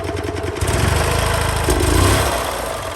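A gas golf cart engine cranks and catches, then settles into a steady, loud, close running rumble with slight rises in revs, no talking over it.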